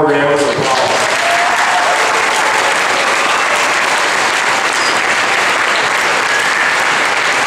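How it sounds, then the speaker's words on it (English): Loud, sustained audience applause for a school choir at a military appreciation event, dense continuous clapping close by, with a brief voice at the very start. "Let's give them one more round of applause."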